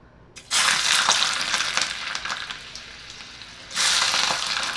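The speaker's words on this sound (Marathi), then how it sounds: "साधारण मी एक आठ दहा लसणाच्या पाकळ्या घातल्या" Eight to ten garlic cloves drop into one to two tablespoons of hot oil for a peanut chutney and burst into a loud, steady sizzle that eases slightly midway, then flares up again near the end.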